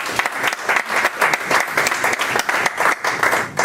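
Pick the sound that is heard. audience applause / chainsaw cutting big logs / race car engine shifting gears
audience applause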